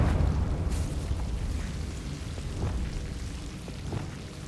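A Confringo blasting spell explodes in the Hogwarts Legacy video game, a loud low rumbling boom that rolls on with crackling debris and fades over several seconds.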